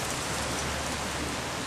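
Steady rain falls in cold weather, a dense, even hiss of drops on surfaces, loud and close with no voices.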